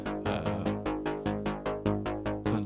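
A custom MS-20 synth bass patch with a biting middle range plays a quick sequence of sharp, plucky repeated notes, each attack fading fast, alone and up close.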